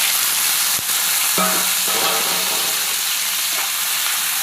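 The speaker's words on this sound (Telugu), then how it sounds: "ఇప్పుడు అదే ప్యాన్లో ఆయిల్ పోసుకొని మనం కోసి పెట్టుకున్న టమాటాలన్నీ వేసేయాలి" Chopped tomatoes dropped into hot oil in a pan for a fresh coconut and mint chutney, giving a steady loud sizzle with a sharper burst as they land, then continuous frying hiss.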